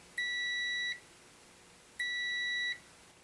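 A digital multimeter's continuity beep as the test leads touch: two clean, identical electronic tones of about three-quarters of a second each, spaced roughly a second apart, loud against a quiet room.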